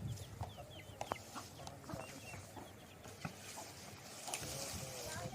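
Chickens, chicks and a rooster cluck and peep in a village yard on a winter day, scattered faint calls over a soft outdoor background.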